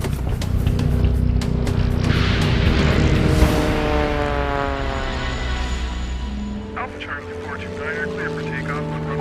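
A small airplane's engine drones steadily, loud and close, its pitch sliding gradually as the aircraft flies, with the roar easing somewhat toward the end.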